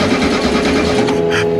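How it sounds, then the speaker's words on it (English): Volkswagen engine fired from a rear-mounted starter button, running with a steady, loud mechanical drone and hum close by, with no voices. "so I can start the engine from back here"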